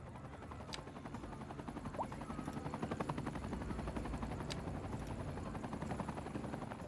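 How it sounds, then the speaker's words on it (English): A firefighting helicopter flies off, its steady rotor chop holding at a moderate, continuous level throughout with no voices. "Firefighting helicopter going back."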